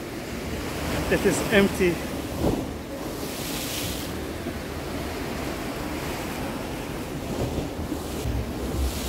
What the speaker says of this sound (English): This is Marmara Beach at night.